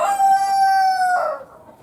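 A chicken at a chicken coop greenhouse in Minnesota lets out a single loud, drawn-out squawk, close and alone, ending abruptly.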